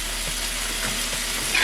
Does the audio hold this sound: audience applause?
no